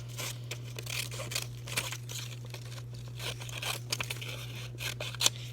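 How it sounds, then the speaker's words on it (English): Paper is snipped and rustled with scissors while a box is cut from a worksheet, giving faint, irregular cuts and crinkles over a low steady hum, with no talking. "cut that very last box out of the smiley face"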